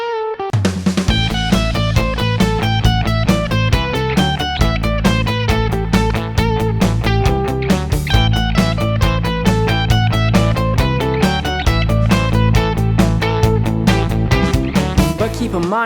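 Guitar playing a seven-note Dorian scale figure, a fast steady run of picked notes over sustained low tones, loud and continuous with no talking.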